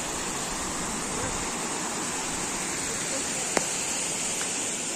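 Water from the forest streams steadily in a Kashmir mountain valley, a continuous rushing wash with a brief click partway through and no talking.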